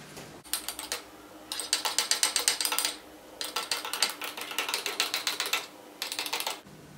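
Electric hand whisk frothing hot milk with instant coffee for a homemade cappuccino, heard as rapid clattering mechanical whirring in several bursts with short pauses, close and fairly loud, no voices.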